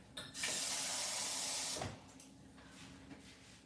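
Room-temperature tap water runs from a faucet for about a second and a half, a loud, steady rush into a sourdough starter mix, then cuts off, leaving quiet kitchen background.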